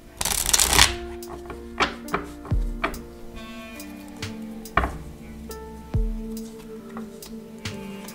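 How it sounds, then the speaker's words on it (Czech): Tarot cards are shuffled by hand in bursts: a dense riffle at the start, then a series of separate soft slaps and flicks spread across the stretch, with quiet pauses and faint tonal background music between. "Já si tady budu chvilinku míchat karty"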